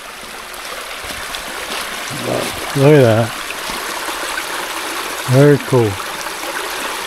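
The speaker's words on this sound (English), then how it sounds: "beautiful flowing water" Steady flowing water from a stream beside a hiking trail on the Mid State Trail runs as a constant close wash throughout, while people talk briefly over it.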